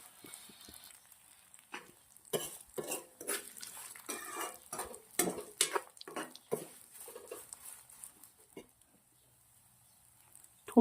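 A spoon stirs and scrapes vermicelli (sev) as it dry-roasts in a pan for dry fruit shiro. Close, irregular clinks and scrapes come in clustered bursts, then thin out to near silence at the end.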